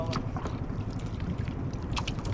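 A small fishing boat's engine runs steadily at sea, a continuous low throbbing hum with wind buffeting the microphone and faint splashes, no talk.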